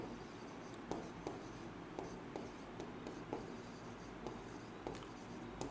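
Chalk or marker scratches in short repeated strokes across a board or paper while a maths lesson on quadratic equations is worked out, the faint, quiet taps and scrapes coming in a loose rhythm with no voice over them.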